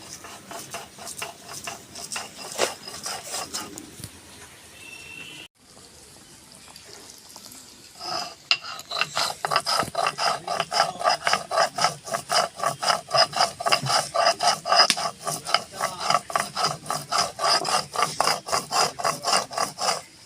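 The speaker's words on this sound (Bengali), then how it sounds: "আমার সর্ষে আর লঙ্কাটা বাটা হয়ে গেল" Mustard seeds and dried red chili being ground on a grinding stone, quiet rubbing at first, then a brief pause, then a fast, regular grating rhythm of close stone strokes.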